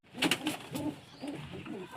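Pigeons coo in soft, low, repeated calls close by, with a faint rustle around them.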